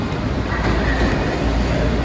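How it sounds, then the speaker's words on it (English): A train arriving at a station rumbles steadily with low, continuous rail noise and faint clatter, moderately close, with no voices. "Guys, there's a train coming."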